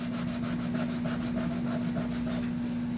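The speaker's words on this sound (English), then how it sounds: "So I lowered it to some other grits here, and just going to start polishing it out." Fine-grit sandpaper rubs back and forth over a Yamaha guitar bridge, a close, even rasping scrub in quick regular strokes over a low steady hum.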